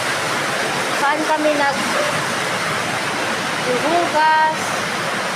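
Floodwater from a typhoon in Mindanao rushes in a steady, loud broadband roar that never lets up, while someone talks over it.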